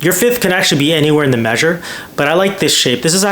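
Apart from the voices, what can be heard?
No everyday noises stand out.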